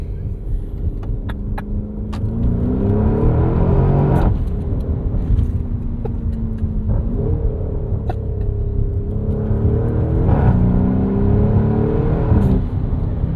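A 729hp V8 in a 2024 Porsche Cayenne Turbo Coupe revs and pulls hard through several gear changes, loud deep engine roar rising and dropping in pitch, heard from inside the car with no talk.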